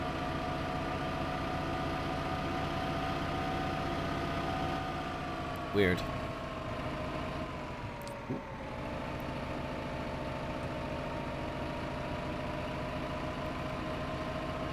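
A tractor engine idles steadily in Farming Simulator 2015, a constant low drone with a faint pitch drift partway through and a couple of brief knocks. Someone speaks briefly over it.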